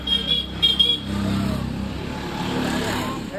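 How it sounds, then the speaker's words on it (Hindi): A road vehicle approaches and passes close by, its engine rising into a steady rumble with a short horn toot at the start, on a busy roadside. "गाड़ी आ रहा है देख के जाना"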